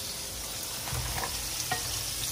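Shrimp frying in garlic butter in a pan: a steady, soft sizzle throughout with a few faint stirring knocks, fairly quiet and close.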